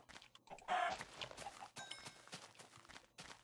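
Chicken clucking in a Minecraft-style video game world near a snow biome, a brief burst of clucks standing out among soft game sounds and footsteps, with no talking.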